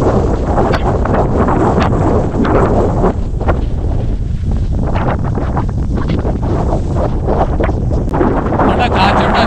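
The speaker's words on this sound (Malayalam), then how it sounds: "കാറ്റുണ്ടോ, എന്ത് ശക്തി നോക്കിയ കാറ്റിന് കേട്ടോ" Strong wind gusts buffet the microphone on Kurisumala hilltop in Vagamon, about 4,000 feet up, a loud, constant roaring rush with uneven surges throughout.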